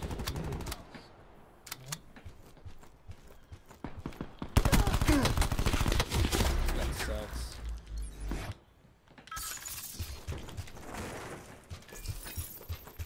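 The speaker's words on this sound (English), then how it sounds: "Who the hell's shooting me" Gunfire in the shooter Call of Duty Black Ops 4, in team deathmatch, comes as fairly quiet, clattering automatic bursts and volleys, with a player's voice talking over the fighting.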